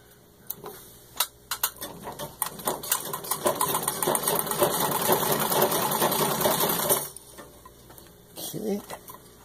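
An antique 1920 Singer 66 Red Eye treadle sewing machine, freshly serviced, runs in a steady mechanical whir with rhythmic ticking, starting in bursts, then sewing continuously for several seconds before stopping and briefly restarting; nearby and fairly loud.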